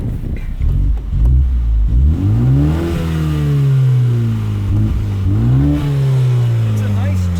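A 2021 Mini Cooper JCW GP with an open rear revs in neutral, the engine climbing in two rising sweeps and settling back to a loud, tuned idle, close up, with a voice speaking briefly at the start.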